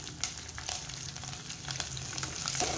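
Chili, garlic and raw peanuts fry in hot tempering oil with a steady, close crackling sizzle that holds for the whole stretch, with occasional sharper pops.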